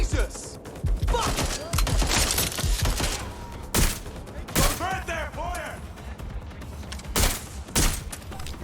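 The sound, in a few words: gunfire from Watch Dogs: Legion video game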